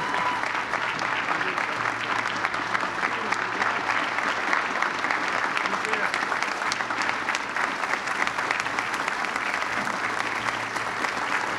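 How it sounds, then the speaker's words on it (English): A dedication ceremony audience gives a vice president a loud, steady round of applause, continuous dense clapping throughout with no speech on top. "Please give a great round of applause to our Vice President, Joe Biden."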